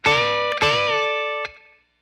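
An overdriven electric guitar plays a short country-style bent lick, bending an A up to a B while fretting a D, two picked notes with the pitch sliding upward, ringing out then cut off abruptly.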